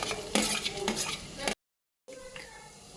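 Shallots drop into sautéed onions frying in a pan for Kerala chicken curry, a close sizzle with stirring scrapes, then a brief cut to silence before quieter frying resumes.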